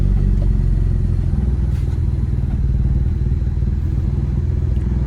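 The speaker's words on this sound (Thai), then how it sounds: "เครื่องยนต์เดินนิ่งๆเลยนะ" An automatic Honda Accord's engine idles evenly, a low steady rumble with a faint regular clatter running unchanged throughout, close and without speech.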